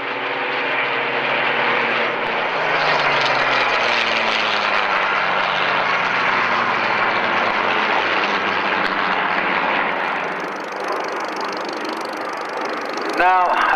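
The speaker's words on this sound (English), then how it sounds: "Photo reconnaissance mark 19 was able to fly very high and very fast." A Supermarine Spitfire photo reconnaissance Mk 19 flying at an airshow, a loud sustained engine roar that swells and sweeps past, then eases slightly near the end, with no talk over it.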